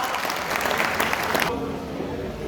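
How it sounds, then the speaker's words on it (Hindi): Loud audience clapping at a national conference in Kurukshetra, dense for about a second and a half before stopping abruptly into a quieter room tone. "जोरदार ताली बजा कर इनका"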